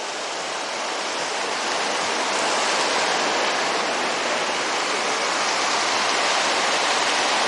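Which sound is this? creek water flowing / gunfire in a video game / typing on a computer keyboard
creek water flowing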